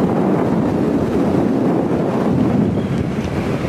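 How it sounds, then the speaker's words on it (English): Strong wind roars steadily across the microphone on the summit of Gable, a constant loud buffeting rush with no other sounds standing out. "It's pretty windy up here."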